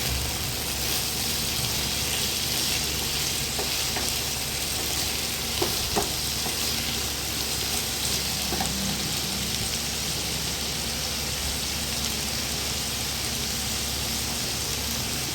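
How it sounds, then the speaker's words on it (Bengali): Ridge gourd (chichinga) fries in a pan with a continuous, even sizzle, a loud hiss close by that holds steady throughout with only faint occasional clinks and no speech. "দেখো চিচিঙ্গাটা আমি এখনও ভাজছি"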